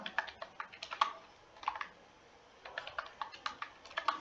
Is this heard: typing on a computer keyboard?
yes